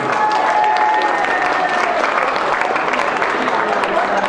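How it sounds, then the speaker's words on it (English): A gala audience in Toronto gives sustained applause for the evening's MCs, a dense steady roar of clapping from a large crowd with faint voices mixed in. "Can we start off by thanking them with applause?"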